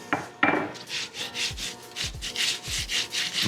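Brown sugar is rubbed into pineapple by hand, a close, rhythmic gritty rubbing repeated in short strokes after a couple of sharp taps at the start.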